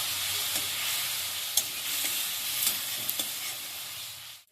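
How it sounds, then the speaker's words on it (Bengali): Spice paste for dhaba-style tadka dal sautés in a pan with a splash of water, giving a continuous soft sizzle broken by a few sharp scraping stirs of a spoon, ending abruptly. "অল্প একটু জল দিয়ে দিচ্ছি মশলাটা যাতে ভালো করে কষানো যায়"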